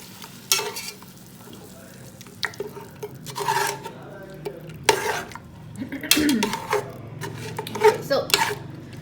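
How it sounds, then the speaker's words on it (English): A spoon scrapes and clanks against a pot as stew beef is stirred around, sizzling softly between several loud, irregular strokes heard up close. "And then I'm just gonna stir it around."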